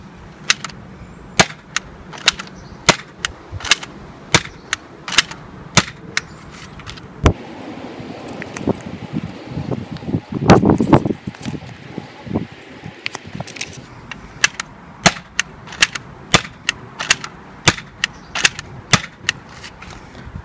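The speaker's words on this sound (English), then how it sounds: "I'll be shooting off 12 shots, fired flat" A Nerf Rebelle Secrets & Spies 4Victory foam dart blaster fires a long series of sharp, snappy shots during a range test, fired flat. The clicks come at a fairly even rhythm, close and crisp, with no talking.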